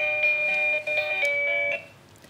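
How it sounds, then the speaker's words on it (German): A wireless doorbell chime with 32 selectable ringtones plays an electronic melody of sustained, ringing notes in several phrases, loud and close with no talk, then stops. "Darf ich mal durchschalten? Ja, gerne. 32 verschiedene Klingeltöne."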